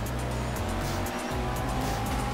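Car engine and road noise from traffic in the video game Grand Theft Auto V during a race, a steady motor drone with low rumble and faint passing swooshes, fairly loud and continuous with no talk.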